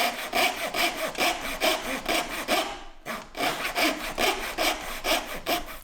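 A hand saw cuts relief notches into wooden trim, its rapid back-and-forth rasping strokes close and loud in a steady rhythm, broken by one brief pause before the sawing resumes.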